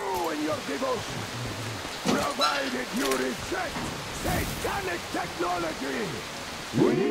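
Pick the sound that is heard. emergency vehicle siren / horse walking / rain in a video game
rain in a video game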